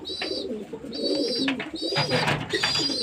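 Pigeons and their chicks gather around water, giving low repeated coos mixed with thin, high squeaky calls in short bursts, fairly close.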